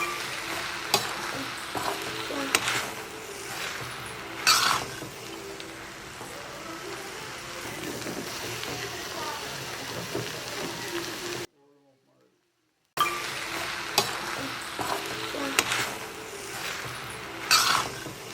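Veg shark puttu made with meal maker is stirred in a pan, giving a steady close sizzle with scraping, clattering spoon strokes. A voice talks over it, and the sound drops out briefly partway through.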